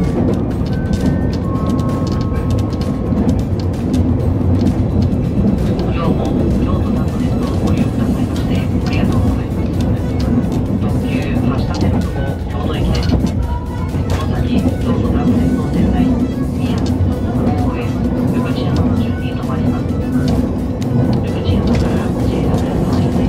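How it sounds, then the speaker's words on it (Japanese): The Hashidate limited express pulls out of Amanohashidate station with a low, continuous rumble and some rail clatter beneath a voice that talks over most of the departure. "15時51分天の橋立駅を発車します。"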